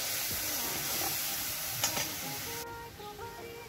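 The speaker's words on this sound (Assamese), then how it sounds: "অকণমান ষ্টিমটো কমাই ভাজি ল'ম।" Spices frying in a pan with black cumin and a cumin, salt and turmeric paste, stirred over lowered heat; a steady close sizzle with scraping stirs and a brief clatter midway.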